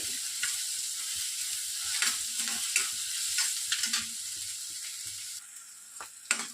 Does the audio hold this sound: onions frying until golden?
yes